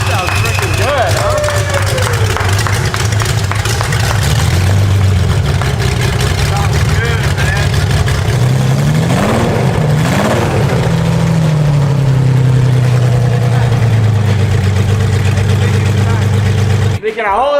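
A Ferrari Testarossa flat-12 engine, long abandoned and leaking fuel, idles loudly and unevenly, revving up and settling back, with voices talking over the rumble throughout.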